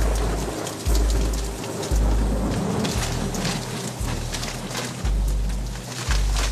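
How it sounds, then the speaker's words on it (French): Light rain falls steadily on a volcano in Indonesia, a close, continuous patter with low rumbling wind or distant thunder underneath and no voices. "une petite pluie nous force à stopper la descente"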